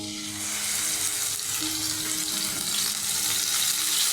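Beetroot sizzling in one spoon of white oil, a steady broadband hiss of frying that holds loud and even throughout, with no voices.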